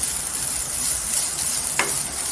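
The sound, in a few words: raw potatoes with salt stir-fried in oil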